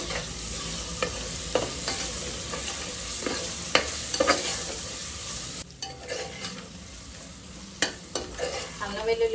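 Ginger-garlic paste and long-slit green chillies frying in a pan for goat head curry, a continuous close sizzle broken by repeated scraping stirs of a spoon.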